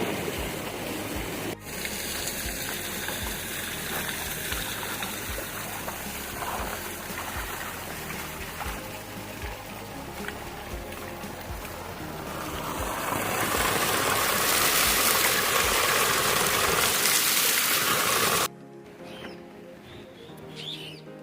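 A fast-flowing mountain river swollen after rain, a loud, steady rushing roar of water close by that swells louder toward the end before cutting off, with birds chirping faintly over it.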